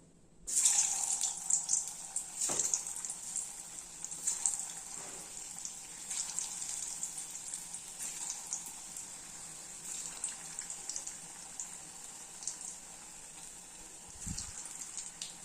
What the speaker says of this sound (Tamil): இப்போ நம்ம எண்ணெய் காஞ்சிருச்சு, எண்ணெயில் போட்டுக்கலாம்.